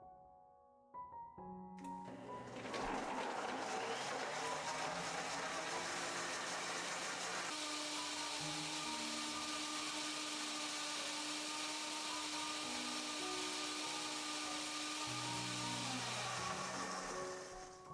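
A kitchen mixer grinder whirs continuously as it blends cold milk, flattened rice and a handful of peanuts, starting after a brief pause and holding a loud, steady motor drone before winding down.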